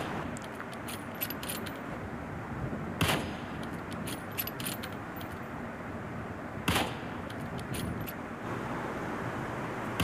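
PUBG Mobile gameplay with two sharp single shots several seconds apart, heard over a constant dense wash of game ambience and faint high metallic ticks.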